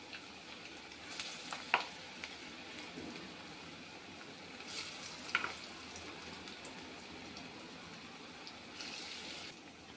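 Potato chips, onion pakoras and chilli pakoras frying in hot oil for an iftar spread, a steady soft sizzle with faint crackles and a couple of sharp clinks from stirring, no talking.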